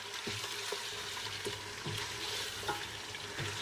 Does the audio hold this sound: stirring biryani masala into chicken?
yes